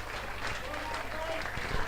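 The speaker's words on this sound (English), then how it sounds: "Ben Harris getting a huge round of applause here today for his performance." A football crowd at Slough Town versus Dulwich Hamlet applauds a substituted player leaving the pitch, scattered clapping rolling across the stand in an open outdoor setting, fairly distant and low, with faint voices mixed in.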